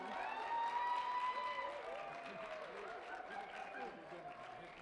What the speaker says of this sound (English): round of applause for the series committee who put these on